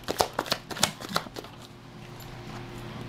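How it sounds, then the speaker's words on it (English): An oracle card deck being shuffled and cards drawn, a quick run of crisp flicking snaps followed by soft rustling, close and fairly quiet. "Let's get four cards."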